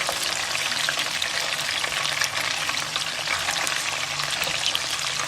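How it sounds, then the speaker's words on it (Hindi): Chicken pieces fry in hot oil for a chicken saag dish, a dense, continuous close sizzle and crackle that holds steady throughout, with faint stirring underneath. "इस तरह चिकन फ्राई करते हैं ना"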